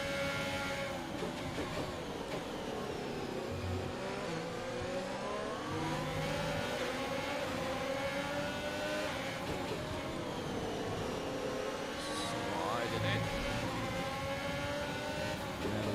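A close train of F1 race cars running nose to tail in F1 2021, engines droning and rising and falling in pitch, steady and moderately loud, with overlapping revs from several cars throughout.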